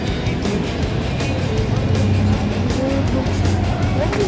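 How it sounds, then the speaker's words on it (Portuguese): A rare Santa Matilde 4.4 classic car idles at a vintage car meet, its engine giving a steady, close, continuous rumble amid the background noise of the show. "Olha o motorzão dela."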